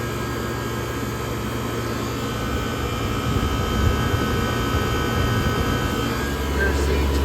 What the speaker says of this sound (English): There's the compressor right there.